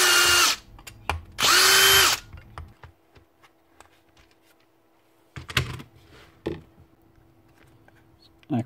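A Milwaukee M12 cordless hammer drill, its hammer action not working, whirs loudly in two short bursts, one after a brief pause, then falls away to quiet handling clicks and knocks.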